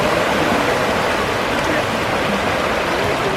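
Small streams run down into a river on a winter countryside ramble near Caton, giving a steady, close rushing wash of water that holds evenly throughout with no talk over it.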